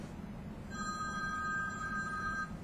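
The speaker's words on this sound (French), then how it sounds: "C'est quoi ce téléphone? C'est les sonneries d'avant, ça." An old-fashioned telephone bell ringtone trills steadily for about two seconds, a continuous electric ring over low background hum, fairly faint and alone.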